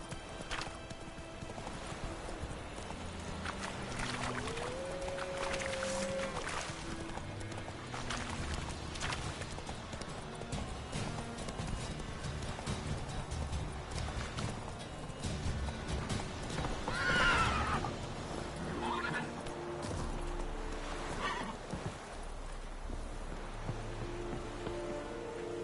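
A horse gallops in a PS4 video game, with steady rhythmic hoofbeats and a clear whinny partway through, over a background wash like rain and other game sounds.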